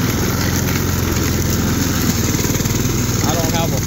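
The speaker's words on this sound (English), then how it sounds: "And I'm mulching all of this." A lawn mower drones loudly and steadily while mulching grass, its engine close and continuous throughout.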